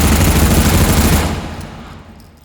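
An M14 rifle fires a loud, continuous full-auto burst in the VR game H3VR, the dense roar cutting off about halfway and leaving a fading echo tail.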